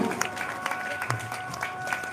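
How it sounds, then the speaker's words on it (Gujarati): An audience claps in honour of a guest, with scattered, fairly faint hand claps mixed with a voice and background noise. "જોરદાર તાળી પાડીએ"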